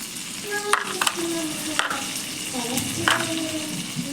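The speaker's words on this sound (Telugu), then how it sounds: "ఒకసారి కలుపుకోవాలి, బాగా వేగుతాయి." Shahi jeera and spices frying in butter and a little oil in a pan, a soft steady sizzle with a few light stirring scrapes and clinks, fairly quiet and close.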